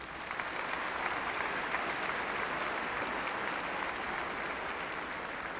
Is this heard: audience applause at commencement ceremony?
yes